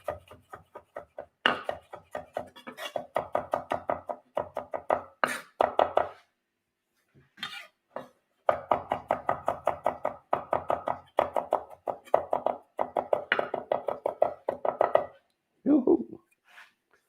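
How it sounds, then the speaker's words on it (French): A knife coarsely chops garlic on a board, with quick, regular thudding strokes in close bursts and a short pause midway. "Je vais hacher grossièrement."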